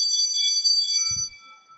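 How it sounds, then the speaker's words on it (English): A school class bell rings in a dating sim game, sustained bright tonal chiming that holds for about a second and then cuts off, followed by a brief low thud. "The class bell rings, disrupting the moment"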